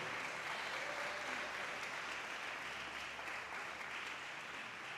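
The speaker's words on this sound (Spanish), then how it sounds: "vamos a regalarle un aplauso fuerte" A church congregation claps for Jesus Christ during a worship service, a steady, dense wash of applause holding evenly for the full five seconds, fairly quiet and distant.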